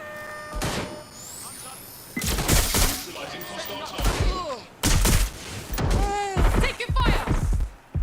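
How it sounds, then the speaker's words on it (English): Gunfire in the video game Watch Dogs Legion: bursts of shots and automatic fire crackle through a firefight, loud and close, mixed with thuds and voices. "Taking fire!"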